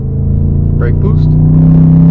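A BMW M550 launches from a brake-boost start, its engine rumbling loud and close from inside the cabin with a rising drone, while a voice speaks briefly over it.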